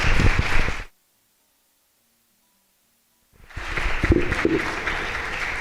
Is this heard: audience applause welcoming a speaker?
yes